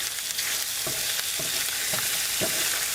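Chicken strips stir-fry in hot olive and peanut oil, a steady bright sizzle broken by four soft scraping stirs of the spoon, close and alone.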